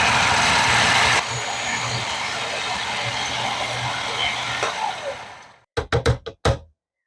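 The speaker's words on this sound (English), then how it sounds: "let them spin and crush to a fine" A food processor whirs loudly as it crushes graham crackers into crumbs, a dense steady motor roar that drops slightly after a second, then winds down and stops, followed by a few short knocks of handling.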